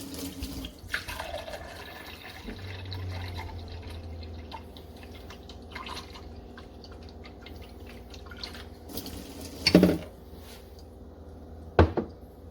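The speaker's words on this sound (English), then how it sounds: "I wanted to give you all a demo of what it sounds like and how fast the water comes out" Frizzlife PD1200 reverse osmosis filter dispensing water under a sink with the cabinet doors closed: a soft steady trickle and faint running flow, with a few sharper drips and knocks standing out, no talking.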